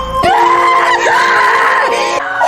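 A woman screams loudly and close by, one sustained high cry lasting about two seconds with a wavering, sliding pitch.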